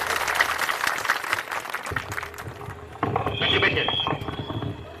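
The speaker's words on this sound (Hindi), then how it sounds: "अब एक बार जोरदार ताली बजाइए आदरणीय प्रशांत जी के लिए" An audience at a political gathering in Bihar claps loudly for a speaker, a dense patter of applause with a voice speaking over it before the clapping thins out.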